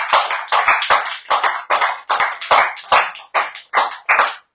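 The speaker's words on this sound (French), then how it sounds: "bravo à Franck qui a remporté, applaudissez-le parce que c'était pas facile" Applause for Franck, the winner on a French radio bistro show, sounds as a small group clapping in quick, separate bursts, each a short rattle of claps followed by a brief pause, close and fairly loud.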